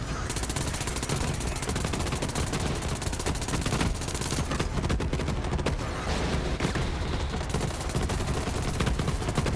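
Kaoson submachine gun fire in the video game Borderlands 3, a dense, continuous rattling barrage that runs nearly unbroken at steady high volume across the whole stretch.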